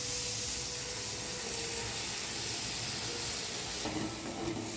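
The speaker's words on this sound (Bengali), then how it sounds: "মশলার তেল ছেড়ে গেছে, আমি জল দিয়ে দেবো।" Water poured into hot spiced oil in a pan while cooking potol chingri, a Bengali dish of pointed gourd and prawns, makes a loud, continuous hissing sizzle that swells briefly near the end.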